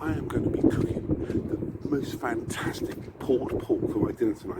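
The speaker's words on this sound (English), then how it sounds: "Sorry about the wind." Wind buffets the microphone with a steady low rumble under a person speaking throughout, the gusts swelling and easing in places.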